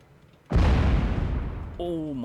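A single heavy tank cannon blast in World of Tanks erupts suddenly and loud, then rolls off in a long rumbling decay, with a short rising electronic tone sequence near the end.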